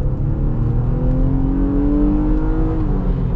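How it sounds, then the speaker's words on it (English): A 2023 Nissan Pathfinder Rock Creek with a naturally aspirated V6 accelerates at high elevation, its engine drone rising steadily in pitch, loud and continuous from inside the cabin, no voices. "It's pretty good for a naturally aspirated V6 at this elevation."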